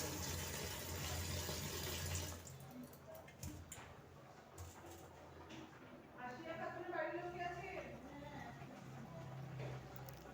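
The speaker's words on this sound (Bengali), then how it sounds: "আলু বেগুন আমি এটাকে ধুয়ে নেব একসাথে, খুব ভালো করে পরিষ্কার করে ডলে ডলে এটা আমি ধুয়ে নেব" Potatoes and eggplant washed together under running water, scrubbed by hand; a steady splashing stream with rubbing and handling noises throughout, fairly close.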